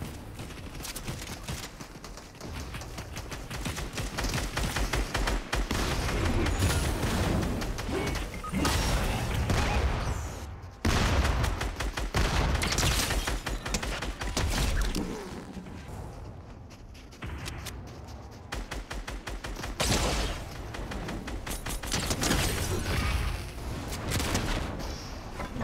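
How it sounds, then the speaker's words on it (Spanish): Gunfire in Fortnite, bursts of rapid shots and crashing impacts that come and go over about twenty-five seconds, loud and dense with short lulls between volleys. "¿Dónde me están disparando?"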